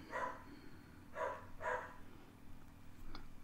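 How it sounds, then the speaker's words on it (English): Several muffled dog barks in three short bursts, a single bark, then a double, at moderate distance indoors over low room hum. "my dogs are barking"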